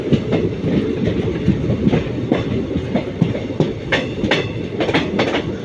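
A train rolls past close by at the Koodamangalam crossing, wheels clattering over the rails in a steady rhythmic clickety-clack beneath a loud rumbling roar.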